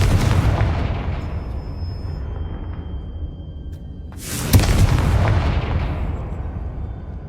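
A Confringo fire spell from Hogwarts Legacy on PS5 goes off as loud booming blasts, one rumbling explosion fading before a second sharp detonation bursts in and slowly decays.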